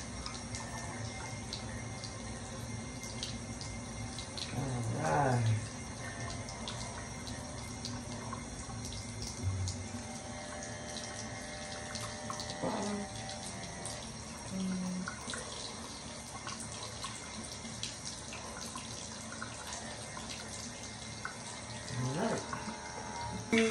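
Tap water runs steadily into a sink in a home bathroom as a face wash is prepared, a continuous close splash with a few brief clinks and shifts in the flow.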